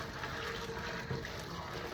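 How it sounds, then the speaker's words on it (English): Boiling hot water poured from a pot over glass jars set out for jam, a continuous close splashing gush that stays steady throughout. "we're just going to dump this boiling hot water in each of these jars"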